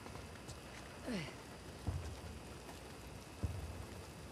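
Steady rain in the Uncharted: The Lost Legacy video game, a constant even hiss running throughout with a few low thuds and brief game sounds on top.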